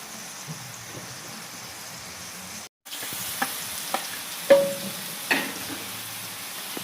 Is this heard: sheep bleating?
no